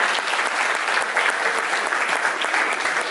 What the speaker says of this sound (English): Hank Hurst, give him a big round of applause.